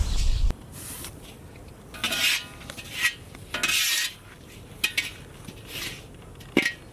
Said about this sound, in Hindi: उसी लिए हम लोग इसमें कोकोनट पाउडर ऐड करके भुनेंगे।